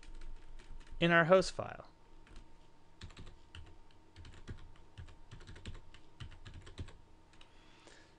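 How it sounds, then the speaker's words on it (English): An IP address being typed on a computer keyboard while editing a Windows 7 hosts file, with soft, sparse, irregular clicks at close range following a brief spoken phrase near the start. "Let's type that number"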